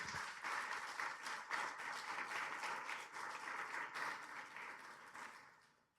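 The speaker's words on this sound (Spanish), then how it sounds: "Démosle un aplauso al Señor." A church congregation applauds together in a dense, steady wash of clapping that gradually tapers off and fades out at the end.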